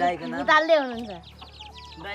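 Chickens cluck and squawk close by in a short, busy burst of bird calls.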